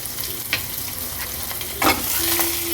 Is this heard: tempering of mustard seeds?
yes